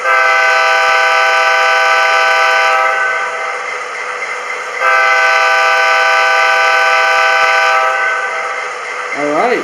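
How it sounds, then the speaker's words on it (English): A loud, sustained two-tone diesel horn from an MTH Union Pacific Dash 9 model locomotive blasts twice, long and steady, with a faint underlying hum. "that is like super... like stereotypically diesel locomotive whistle"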